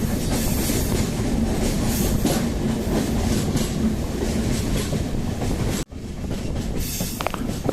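Train rolling through dense forest in a national park near the Dudhsagar waterfalls in Goa, a loud steady rumble with clickety-clack of wheels on rails, heard close from inside, with a brief drop near the end.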